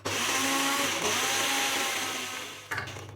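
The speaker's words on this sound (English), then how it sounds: "It's a middle part of the blender, and then just blend it." A blender whirs loudly and continuously, its motor winding down near the end before a brief clatter.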